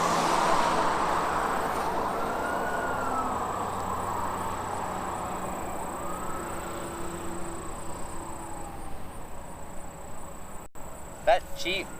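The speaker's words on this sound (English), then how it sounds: "Those sirens? That was a Jeep, like with the open top like TJ Jeeps that people drive in the summer, running sirens out of his Jeep." A siren wails from a distance on an open-top Jeep TJ fitted with a small light bar, two slow rising-and-falling sweeps under steady insect-like chirring in a summer outdoor setting in Cincinnati, Ohio, with a brief clatter near the end.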